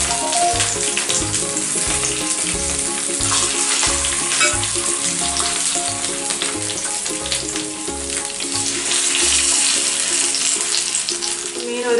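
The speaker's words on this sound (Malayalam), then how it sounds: "മീൻ ഒരു ഭാഗം ഫ്രൈ ആയി വന്നിട്ടുണ്ട്." Fish frying on a bed of curry leaves in a pan, Kerala nadan style, a loud, constant crackling sizzle under a steady rhythmic background music beat, with no voices.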